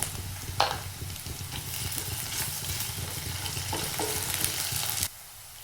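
Garlic and ginger paste frying and being stirred in a pan, a steady close sizzle with scraping stir strokes that cuts off abruptly near the end.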